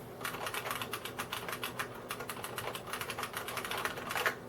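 Rapid typing on a Unicomp Model M mechanical keyboard, with crisp, clacky keystrokes in a steady stream, close and fairly loud, no voices.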